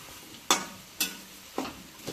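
Chopped carrot, capsicum and cabbage stirred in a frying pan for egg fried rice, four separate scraping stir strokes over a faint background sizzle, fairly quiet with no talking.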